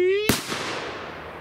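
A firecracker lit and thrown on New Year's Eve, one sharp close bang that cuts off a sustained tone, followed by a fading crackle and a smaller pop under brief voices.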